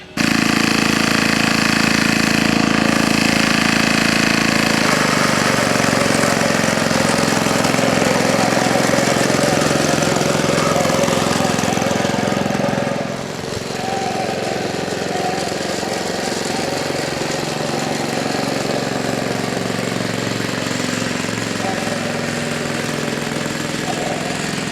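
A 1953 Savage Arms reel lawn mower powered by a Briggs 5S engine runs loudly and steadily up close, its busy mechanical drone dipping slightly partway through and then carrying on at a lower, even level with no talking.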